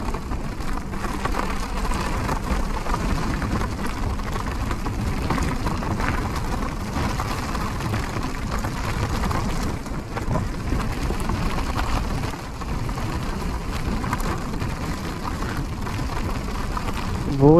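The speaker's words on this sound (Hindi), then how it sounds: "क्या बारिश है।" Heavy monsoon rain pours down during a scooter ride on a Honda Activa from Mumbai to Malshej Ghat, a dense steady roar of rain mixed with wind and engine noise that holds constant and loud throughout.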